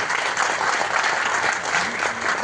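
An audience applauds Karuna at a film music launch ceremony, a full, sustained round of clapping filling the hall at steady loudness.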